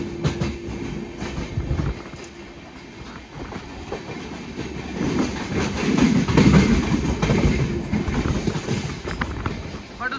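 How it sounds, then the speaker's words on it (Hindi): A Vande Sadharan (Amrit Bharat) express train runs at speed while overtaking another train, a loud steady rumble and rhythmic clatter of wheels heard from inside the coach, swelling as the passing train roars alongside. "देखो ये देखो एक और ट्रेन को ओवरटेक, लगातार 2 को ओवरटेक।"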